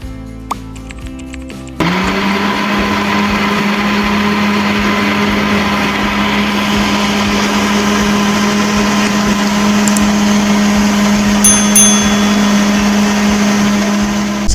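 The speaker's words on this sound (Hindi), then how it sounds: "बारी बारी इनको मैं ब्लेंडर में डालती जा रही हूँ और इनको अच्छे से ब्लेंड कर लेंगे।" A kitchen blender whirs loud and steady as it purées tamarind, plum and date pulp with water for a sweet chutney, starting after a short clatter and running continuously without speech.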